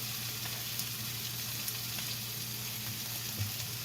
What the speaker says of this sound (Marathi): मस्त फोडणी झालेली आहे